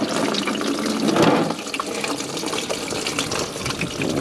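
Coolant from a Range Rover Sport pours into a drain pan as a steady, splashing gush of liquid that keeps running throughout, fairly close and continuous.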